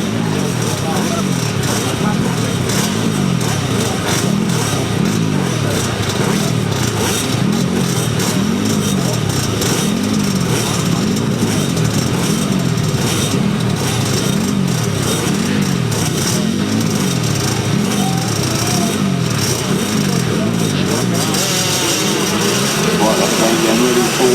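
Grasstrack racing motorcycles at the start of a junior heat roar loudly together, engines rising and falling in steady revving swells as the pack pulls away, a dense continuous drone under a commentator's voice.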